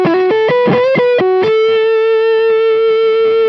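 An electric guitar plays through two effects pedals, giving a loud, distorted tone. A few quick plucked notes come first, then one long note rings out and sustains steadily.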